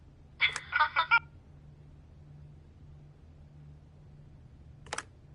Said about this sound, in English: Phone rings off the hook sometimes.